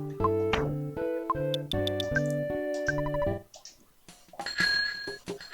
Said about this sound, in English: can ring the little bell whenever we want with the R button